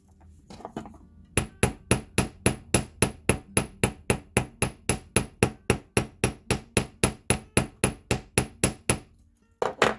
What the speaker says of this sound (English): I'm going to whack it with a hammer